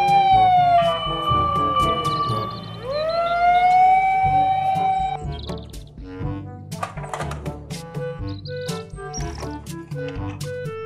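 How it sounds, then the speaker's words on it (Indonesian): A loud fire truck siren wails, its pitch sweeping up and down over an engine drone; after the siren stops, scattered clatter and short tones follow. "Mobil truk pemadam kebakaran."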